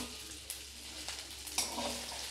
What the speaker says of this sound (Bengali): এরকম একটু শিঙি মাছটাকে একটু লাল করে ভাজতে হবে।